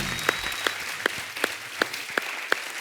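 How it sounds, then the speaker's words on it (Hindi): Rhythmic clapping from a studio audience on a comedy talk show, sharp claps landing in a steady beat about every third of a second. "सब कितनी तालियां बजा रहे हैं आपके लिए"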